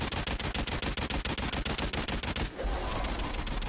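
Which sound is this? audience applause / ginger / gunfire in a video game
gunfire in a video game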